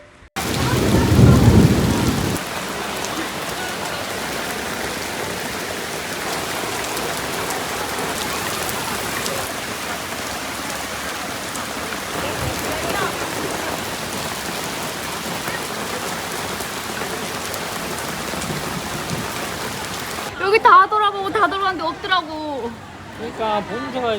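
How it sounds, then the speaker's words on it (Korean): Steady rain falls during a thunderstorm at Chimelong Safari Park in Guangzhou. A deep thunder rumble comes early, followed by a dense, even hiss of rain on surfaces, and voices talk near the end. "비가 내리기 시작했습니다"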